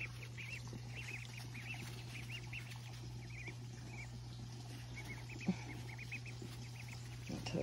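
Baby ducks being released at a pond give soft, repeated peeping and quacking calls, faint and scattered over a steady low hum.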